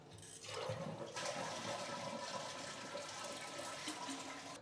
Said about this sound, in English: and flush the toilet to get all the water out.